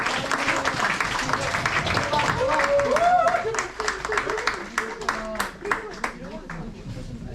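Audience clapping breaks out at an environmental talk concert with high school students, loud at first and then thinning into scattered claps, mixed with voices and murmuring from the crowd.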